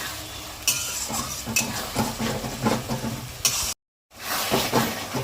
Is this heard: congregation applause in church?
no